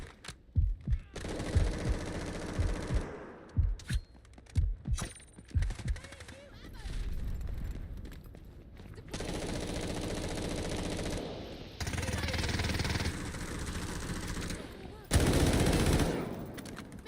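Gunfire in the video game Delta Force as suppressive fire: rapid bursts of automatic shots, then long sustained streams of loud, close machine-gun fire separated by brief pauses.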